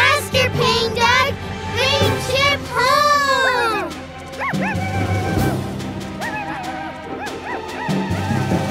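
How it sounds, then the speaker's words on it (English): Cartoon dog yipping and barking in quick repeated bursts while chasing a truck, loud and close, with high whimpering yelps over a busy animated soundtrack. "Pink Dog's still chasing the truck"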